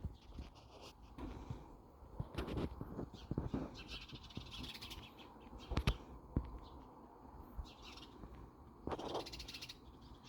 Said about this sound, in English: Do you hear them birds?